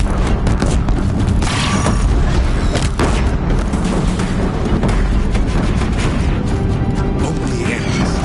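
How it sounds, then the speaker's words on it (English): Deathbringer war machines fire in Horizon Zero Dawn, producing continuous heavy booms and explosions with crashing debris, loud and dense throughout, while a voice speaks briefly over them. "If the Deathbringers keep firing, this bridge will go."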